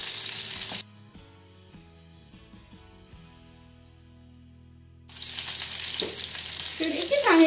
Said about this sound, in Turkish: Tavada son ciğerlerimiz pişerken